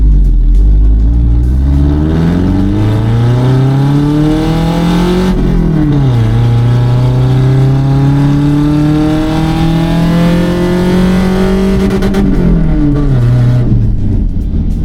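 A loud supercharged old Toyota truck engine revs up through rising gear pulls, dropping briefly between shifts, close and continuous with no talking.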